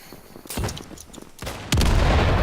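Gunfire in a Counter-Strike style team match on the map Derailed, with sharp close shots and a heavier burst near the end, loud and abrupt against quiet game background.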